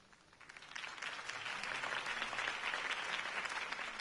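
Crowd applause follows a campaign speech in the Telltale Batman video game, steady clapping that swells after the first second and carries on alone, fairly quiet and distant.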